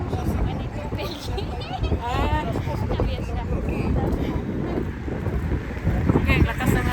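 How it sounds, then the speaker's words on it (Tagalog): Strong wind buffeting the microphone outdoors in a flooded area, a steady rushing roar that runs throughout beneath people talking. "lakas ng hangin"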